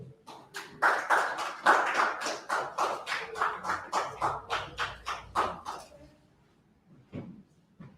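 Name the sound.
clapping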